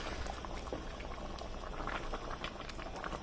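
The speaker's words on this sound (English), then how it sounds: "I'll let it simmer for just 30 seconds and I'll turn it off" Catfish pepper soup simmers in a pot with scent leaf added, giving a steady, soft bubbling and gentle liquid churn with no voices.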